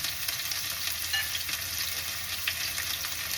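Egg and bacon frying in a pan, giving a dense, even sizzle with small pops throughout, close and alone.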